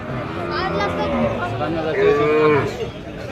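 A cow moos at a busy cattle market, one long, loud, drawn-out bellow near the middle, over a steady hum of crowd chatter and voices.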